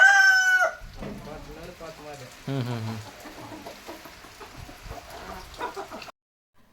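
A rooster crows loudly at the start, then hens cluck in bursts, with a person humming softly alongside.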